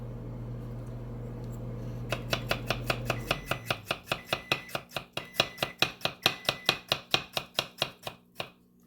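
A knife chops food into paper-thin slices on a board, a fast, even run of about two dozen crisp close knocks following a low hum that cuts out.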